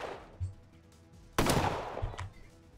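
Gunshots in the turn-based RPG Colony Ship (2023): one sharp, loud report with a lingering noisy tail, plus a fainter shot just after, over quiet background game ambience.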